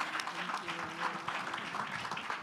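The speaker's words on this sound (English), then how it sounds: "Please give a round of applause to the panel." An audience applauds the panel at a business session with founders of South African brands, a faint, steady patter of clapping throughout the short stretch.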